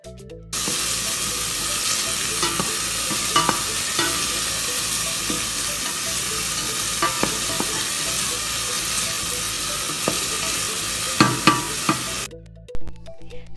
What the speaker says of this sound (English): So now I am sauteing the garlic and the onion and wait until it's golden brown.